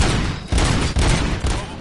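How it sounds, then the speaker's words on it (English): Rapid bursts of gunfire crackle loudly and close in Robocop Rogue City, several volleys overlapping in quick succession. "Gunshots? What's going on?"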